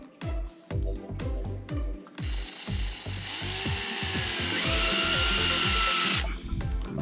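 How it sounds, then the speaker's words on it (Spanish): A small power driver whirs in repeated short bursts while screws are tightened into an SCX10-3 RC crawler chassis, then holds one longer steady whine with a rising pitch before cutting off; close and loud. "Voy a apretar, solamente voy a poner los tornillos bien puestos ahí."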